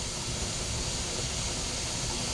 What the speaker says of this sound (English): Now she's steaming.